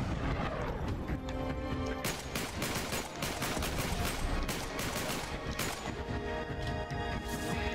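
Gunfire during a firefight in the video game Uncharted 3, rapid bursts of sharp shots and cracks repeating steadily over several seconds with echoing impacts.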